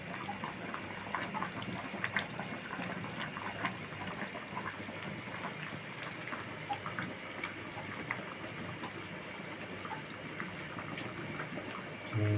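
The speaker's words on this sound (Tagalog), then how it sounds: "Narinig nyo ba yung kata-kata ng tubig sa bowl?" Continuous soft bubbling and popping of water simmering in a bowl while cooking sautéed chicken with mung beans, a dense crackly texture that stays even throughout, with no voices.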